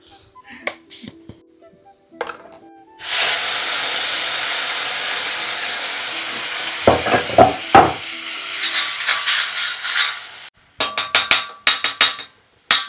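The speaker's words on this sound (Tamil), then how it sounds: "தக்காளி கண்ணுக்கே தெரியாமல் அப்படி ஒரு ஜாம் மாதிரி வதக்கி விடணும்" Tomatoes sizzle loudly in a hot pan as they cook down, a steady close frying hiss broken by clinks and scrapes of a spatula against the pan before and after.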